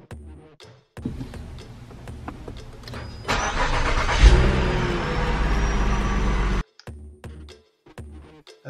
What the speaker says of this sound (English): After that, we're gonna power on the car.